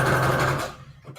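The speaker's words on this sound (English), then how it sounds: "Don't ask me to sew anything that needs to be straight." A sewing machine stitches a floral vintage-ad junk journal embellishment, whirring loudly and steadily for most of the moment before stopping abruptly, leaving quiet room tone.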